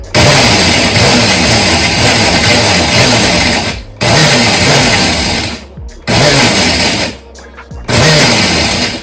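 Blender pulsing to grind dehydrated vegetables into seasoning powder, four loud whirring bursts separated by brief pauses, close and alone.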